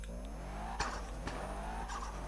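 Engine revving and rising in pitch as a car pulls away in the game MTA, with a couple of sharp tire squeals and bumps over a low hum.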